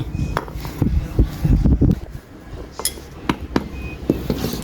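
Metal parts of a 411 brush cutter being hammered apart on a workbench, with several sharp clinking taps spaced irregularly over a low clattering background.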